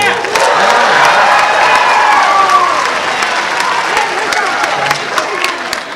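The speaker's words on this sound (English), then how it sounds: "Everybody cheer." A concert audience in a school band setting cheers loudly, with whoops, shouts and applause from a large crowd sustained over several seconds before tapering slightly.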